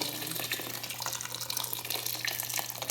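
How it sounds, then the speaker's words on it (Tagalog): Water pours steadily from a tap into a cooking pot of meat and rice for homemade arroz caldo, a continuous close splashing and gurgling with no talk. "Lagyan na natin siya ng tubig para lumambot ang ating parni at saka bigas"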